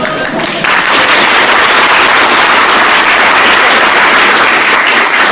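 A large group claps in unison at an exam-preparation group activity, a dense, loud, sustained patter of hands that fills the whole stretch without a break.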